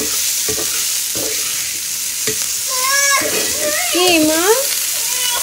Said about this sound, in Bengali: পনিরটা ভালো করে ভেজে নেব।